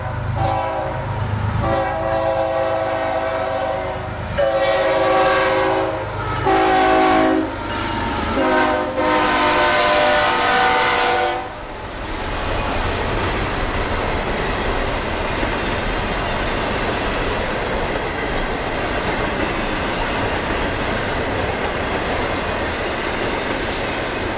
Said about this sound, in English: watching a train through the limbs of a southern live oak covered in Spanish moss